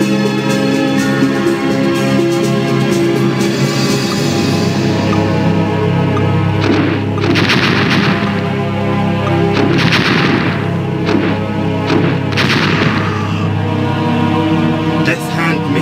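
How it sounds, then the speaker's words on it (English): Death Hand missile launch and explosions from the Dune 2000 strategy game, a series of loud booming blasts bursting out around seconds 7, 10 and 12 over a steady bed of game music, with a voice announcing events. "Missile launch detected."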